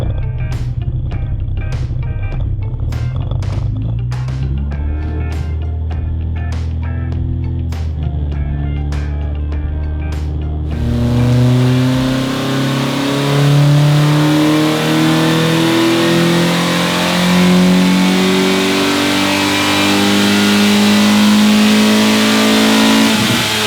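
A Lemons VW race car engine revs on a dyno, loud and close. Sharp rhythmic pops and blips come first, then a sustained rising full-throttle pull that holds for over ten seconds, with no talk.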